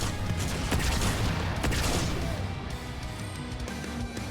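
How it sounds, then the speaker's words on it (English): Fuel rod cannon fire in Halo 2 Anniversary, a dense burst of booming shots and crashing explosions layered over continuous game noise, loud and close for a few seconds. "I also now have a fuel rod cannon, which will take care of all these dudes very easily."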